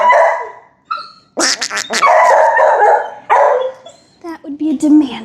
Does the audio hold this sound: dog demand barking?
yes